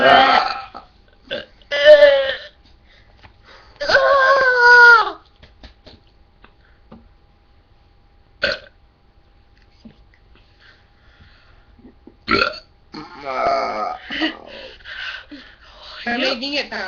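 Loud, drawn-out burps in a casual burping contest, several separate belches spaced out with pauses of near silence between them, close to the microphone and not overlapped by talk.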